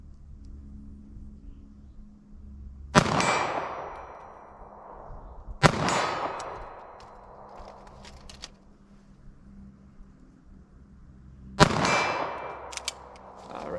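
Three sharp .380 ACP pistol shots fired with Xtreme Penetrator ammunition at a steel target, each a loud crack with a metallic clang and a decaying ring, spaced a few seconds apart over faint background rumble.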